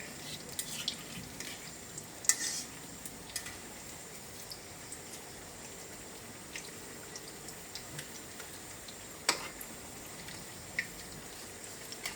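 Sliced kakrol (spiny gourd) fries quietly in a pan while the pieces are turned one at a time, giving a soft, constant sizzle broken by a few sharp clicks and scrapes spread across the clip.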